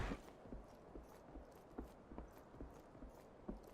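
A horse in the game Myth of Empires plods with soft, evenly spaced hoof clops, fairly faint and alone with no talk over it.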